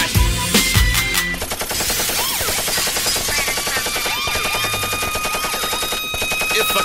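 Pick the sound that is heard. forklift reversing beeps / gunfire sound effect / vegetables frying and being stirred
gunfire sound effect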